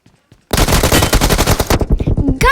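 Video game machine gun fire: a sustained rapid burst of loud automatic shots, close and harsh, followed by a short pause and a final shot.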